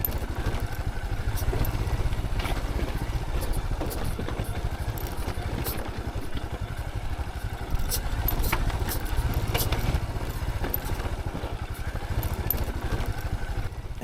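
A motorbike rolls down a rocky mountain trail in a remote canyon, with a steady engine hum, rattling clatter and wind buffeting throughout, plus occasional knocks from the rough ground.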